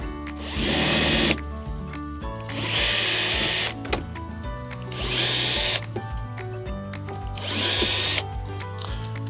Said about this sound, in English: we can drill some nice tiny little pilot holes just to put the screws in